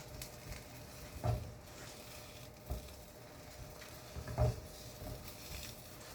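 An egg frying in a pan for a breakfast sandwich gives a soft, steady sizzle and patter close by, with a few louder clinks or bumps of a utensil against the pan; no one speaks.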